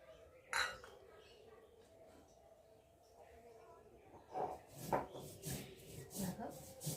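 Poppy seeds being ground by hand for aloo posto, a soft gritty rubbing that turns into a run of rhythmic scraping strokes in the second half, fairly quiet, with a faint voice in the background.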